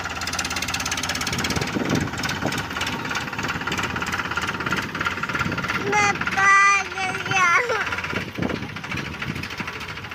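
A farm tractor engine struggles to run, knocking and rattling roughly throughout at close range, while voices talk and a child cries over it.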